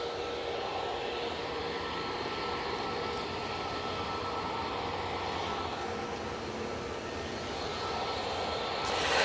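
A Jet2 airliner bound for Malaga departs Manchester Airport, a steady broadband engine roar holding level throughout and swelling slightly at the very end, with no talk over it.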